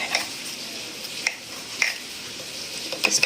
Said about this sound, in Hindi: अब मैं इसको कट कर लेती हूँ सेंटर से